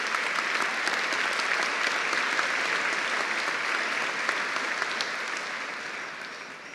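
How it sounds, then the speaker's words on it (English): A graduation ceremony audience claps for new dentistry graduates in a large hall, a dense and sustained wall of applause with no talking, easing off slightly near the end. "Now the dentist won the applause round"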